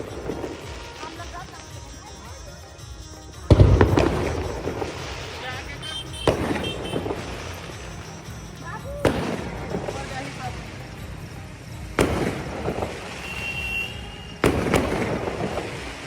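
Diwali firecrackers burst outside a home in a series of sharp, loud bangs spaced a few seconds apart, each followed by crackling, heard over steady background chatter and ambient noise.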